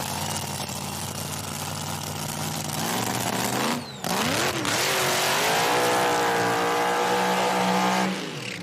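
Nitro drag racing cars at an IHRA Outlaw Nitro Series final in Dunn, North Carolina, roar loudly and continuously, their engine pitch sweeping up and down close by.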